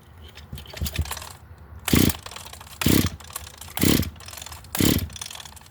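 An Echo GT-1100 string trimmer engine is pulled over by its starter for a compression test, four loud, evenly spaced bursts of cranking about a second apart with quiet gaps between.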